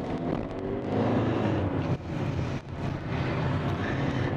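A car accelerates hard in first gear near a roundabout, its engine note rising and droning loudly from inside the cabin with brief dips, heard on its own without talk.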